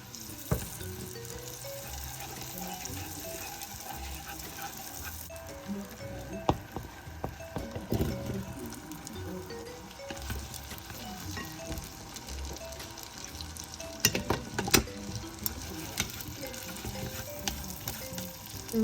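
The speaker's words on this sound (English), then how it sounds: "The reason why I'm stir frying the chicken and the vegetables is to make sure that the chicken is well cooked before adding the water in." Chicken cubes and vegetables are stir fried for katsu curry, giving a steady sizzling hiss with frequent scraping and clinking of a utensil against the pan throughout.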